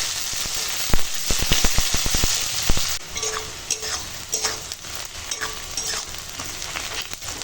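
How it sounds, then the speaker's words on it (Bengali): Onion frying in oil over whole tempering spices, cooked until golden: a run of sharp crackling pops and stirring scrapes at first, then a steady sizzle with occasional clatters. "পেঁয়াজটা একটু সুন্দর করে একদম সোনালি করে ভেজে নেব"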